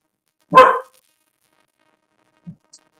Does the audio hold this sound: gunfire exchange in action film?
no